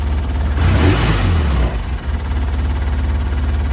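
A farm vehicle fitted with a custom hand throttle runs on a test drive, its engine swelling louder for about a second, then settling into a steady mid-pitched hum at close range.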